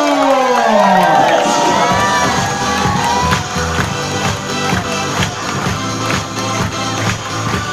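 A large crowd at a leaders' meeting cheers and shouts for the company president, a loud swelling roar with voices sliding in pitch at first, then settling into sustained cheering over a pulsing beat of background music.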